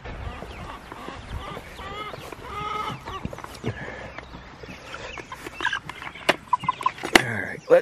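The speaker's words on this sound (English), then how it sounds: "I see the crazy white chicken down there" Chickens on a farm clucking at feeding time, a busy run of close, overlapping clucks and squawks, with people talking faintly and some sharp knocks near the end.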